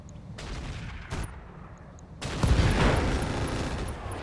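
Turrets firing on mechs in the Roguetech battle game, a loud burst of heavy gunfire and booms that starts abruptly partway through after a few single shots, with no talking.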